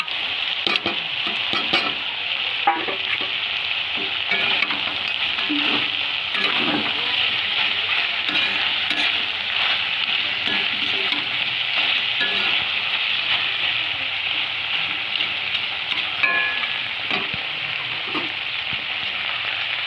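Pumpkin lentil dumplings (kumro bori) fry and get stirred in a pan with drumstick stalks, a steady close sizzle running throughout with frequent scraping stir strokes and no talk.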